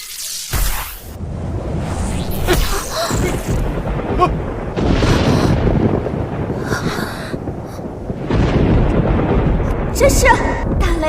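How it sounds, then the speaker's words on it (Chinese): A thunder sound effect in a Chinese period drama set in ancient times rolls as a loud, continuous rumble with sharp cracks and whooshing surges lasting throughout. "这是打雷了吗？"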